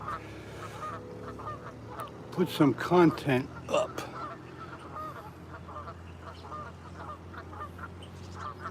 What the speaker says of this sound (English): can't hear myself over the geese